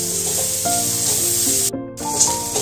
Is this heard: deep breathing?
no